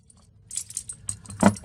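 Keys on an everyday carry keychain that also holds tools jangle in several light metallic bursts, close and fairly quiet, ending in one louder clink.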